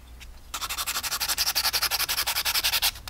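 Sandpaper rubs rapidly back and forth along the edge of a hand-carved wooden bullfrog tadpole fishing lure, a close, even series of scratchy strokes starting after a brief pause and continuing to the end.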